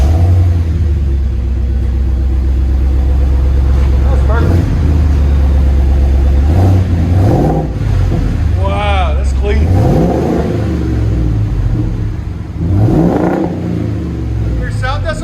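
A 2022 Ford F-350 with the 7.3L gas V8 and Borla XR-1 exhaust rumbles at idle and revs up in several rising surges, deep and loud up close, while people talk briefly over it.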